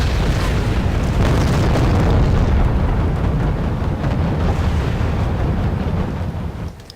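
Tank cannon fire and explosions from T-62s and AMX tanks in the Wargame European Escalation multiplayer game, a dense, continuous roar of booms and blasts filling the whole stretch without a break.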